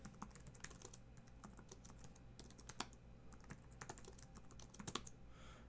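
Steady keyboard typing while a trade message is entered, with quick, irregular key clicks close to the mic that run on without pause across the whole stretch.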